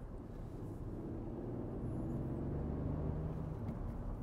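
Hyundai i20 (2024) with a manual gearbox, its engine giving a steady low drone and rumble heard from inside the cabin, fairly quiet and continuous with no talking.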